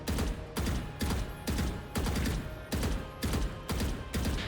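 Rapid automatic gunfire sprays in Valorant with recoil held steady while standing still, loud bursts of shots in a steady rhythm with brief gaps roughly every half second, close and dominant.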